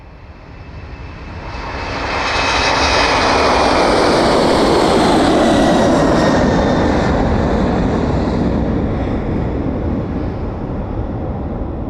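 An airliner takes off from the East Midlands Airport runway, its jet roar swelling after about two seconds into a loud, sustained broadband rush that eases slightly as it climbs away.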